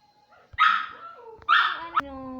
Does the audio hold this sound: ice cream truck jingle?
no